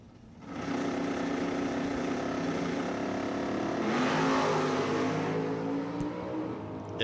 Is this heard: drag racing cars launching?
yes